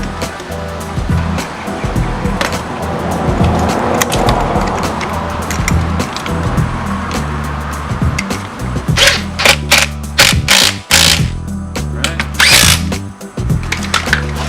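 A power tool whirs and rattles while unbolting a part on a Honda Civic engine bay, with a steady mechanical drone followed by sharp bursts and clanks near the end, close and loud.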